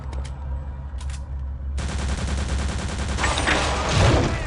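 Distant machine-gun fire in the shooter Return to Castle Wolfenstein rattles in a steady rapid stream of bursts, with a rumbling game backdrop and a couple of earlier isolated thumps.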